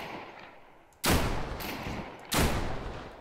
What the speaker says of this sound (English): Oh, more gunfire.